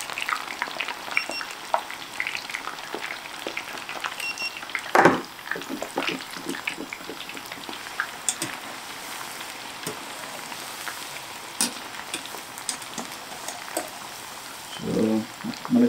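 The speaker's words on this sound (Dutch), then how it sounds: "zoals ik met patat bak" Fries crackle and sizzle steadily in hot oil in a small pan, a dense bubbling hiss with occasional sharper pops and stirring clatters, close and continuous.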